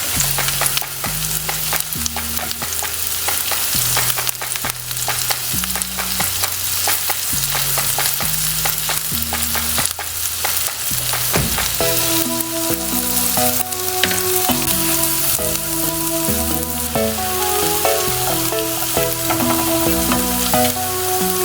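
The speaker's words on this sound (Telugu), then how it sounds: "క్యారెట్ వేసి వేయించుకోవాలి." Carrot frying in a pan with mint, spring onion and edamame beans for a biryani, a dense steady sizzle that continues throughout beneath background music.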